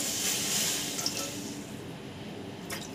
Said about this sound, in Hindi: चलिए पानी डाल दी मैं